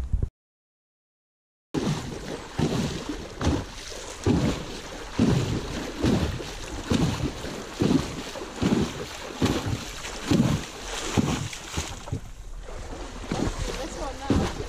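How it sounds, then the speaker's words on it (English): A Shire horse wading through a river at Somerford Park, its legs sending rhythmic, repeated splashes close to the microphone under wind noise, with a person speaking over it. "We're splashing in the water."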